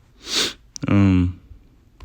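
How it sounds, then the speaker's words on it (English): One sharp, wet sniffle up close, a short nasal snort right after, then quiet. "So I got the sniffles."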